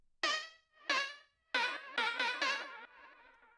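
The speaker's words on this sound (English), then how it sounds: "used the Sound Toys crystallizer to give it this crazy crystal effect." SpongeBob howl sample, EQ'd, compressed and run through a Sound Toys crystallizer effect: a series of six shimmering, glassy vocal bursts in a stuttering rhythm, bright and metallic, fairly quiet and alone.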